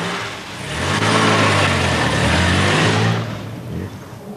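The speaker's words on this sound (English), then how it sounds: "As I accelerated up the pit lane" A Jaguar S-Type racing car accelerates up a pit lane, its engine droning loud and steady with rising tone, swelling to a sustained roar before easing slightly at the end.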